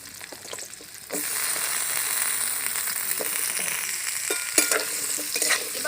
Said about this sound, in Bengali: এবার আমি ওই তেলে আলুটা ভেজে নেব।